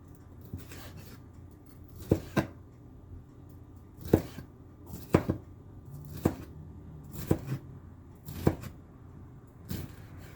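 A sharp kitchen knife chops ingredients for a cheese steak sandwich on a board, with distinct cutting strokes spaced a second or so apart, some in quick pairs, heard close and clear over a quiet room.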